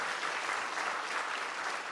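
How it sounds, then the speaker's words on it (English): Sustained audience applause at a high school sports awards event for a Junior ROTC unit, an even wash of many hands clapping at moderate distance. "Again, a round of applause for the Junior ROTC from Treasure Coast High"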